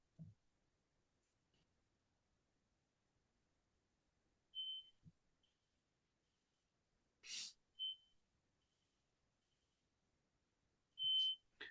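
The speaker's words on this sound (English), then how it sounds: "Boy, it's a persistent little alarm," An electronic alarm chirps now and then in a quiet room: brief high beeps spaced several seconds apart, with faint clicks and breaths between them.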